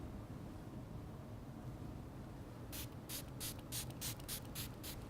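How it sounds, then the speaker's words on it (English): Quick hissing bursts of neutralizing spray onto facial skin, about eight short pumps in a steady rhythm, close and fairly soft over a low background hum. "we're going to follow that up with a second neutralizing spray"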